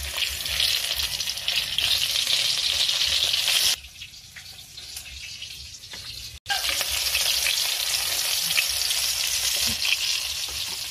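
Hotdogs fry in a hot pan with a steady, close sizzle and crackle that drops away briefly in the middle before returning just as strong.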